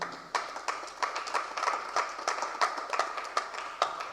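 Audience applauding at a culture festival: a steady crowd clapping with many sharp, overlapping hand claps, moderately close, no talking.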